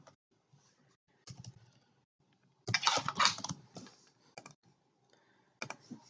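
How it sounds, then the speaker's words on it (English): Quick bursts of clicks from a computer keyboard being typed on, close and fairly quiet, with short pauses between clusters of keystrokes in a quiet room. "I'm going to type the word mother, actually."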